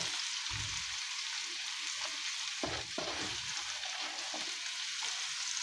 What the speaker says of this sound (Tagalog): Ayan, sibuyas halo natin.